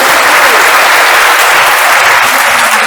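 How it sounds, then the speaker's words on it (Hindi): Loud, dense applause from a large audience at a Bihar Diwas comedy and music evening in Patna, a continuous roar of clapping close and sustained throughout. "आप एक बार जोरदार तालियां बजाइए।"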